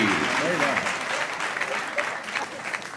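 At a Hindi comic poetry gathering, a crowd breaks into sustained applause, a broad, even roar of clapping with a voice briefly audible at the start.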